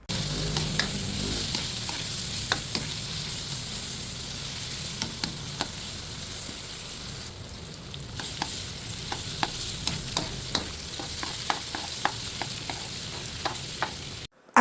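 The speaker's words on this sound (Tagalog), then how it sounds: "Haluin lang natin hanggang sa lumambot na ang carrots." Vegetables and carrots sizzle gently in a pan while a utensil taps and scrapes the metal again and again in an uneven rhythm, close and steady for the whole stretch.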